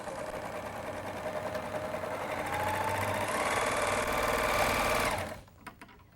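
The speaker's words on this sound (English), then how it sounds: "Let's take a couple of stitches and then go in and trim that front needle thread." Viking Huskylock 1002LCD serger running a 5-thread stitch, a fast close mechanical whirring hum that steadies and then stops abruptly near the end, followed by a couple of faint clicks.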